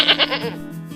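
A goat or sheep at a village livestock setting gives a single wavering bleat, close and fairly loud, with a shaky upper part fading into a lower drawn-out tail.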